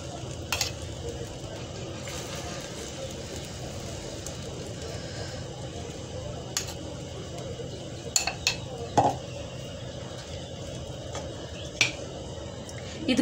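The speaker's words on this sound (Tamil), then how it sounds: "இப்போ நம்ம கலக்கி வச்சிருக்கிற முட்டை கலவையை வந்துட்டு இந்த பிரெட்டுக்கு நடுவில் ஊற்றிடலாம்" Egg mixture with moringa leaves fries with bread in a pan over low heat, a soft continuous sizzle broken by occasional clinks and scrapes of a utensil against the pan.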